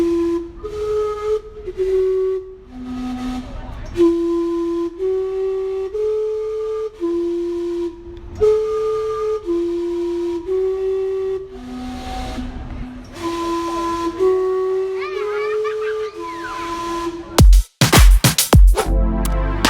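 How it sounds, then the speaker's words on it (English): The Gastown steam clock in Vancouver plays a whistled chime tune on its steam whistles, a loud sequence of sustained pitched toots in a slow melody, ending with a burst of hissing steam and crowd noise. "everybody wants to have a video of the steam-powered"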